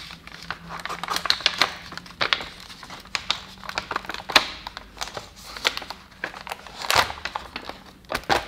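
Sublimation transfer paper being peeled off a pressed mouse mat, giving a run of sharp crinkling and crackling bursts at an irregular pace, close up and fairly quiet, with no voices over it.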